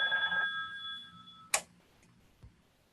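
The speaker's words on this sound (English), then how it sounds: "I knew my phone was going to ring." A telephone rings with a steady electronic trill for about a second and a half, then cuts off, followed by a sharp click and a faint knock in a quiet room.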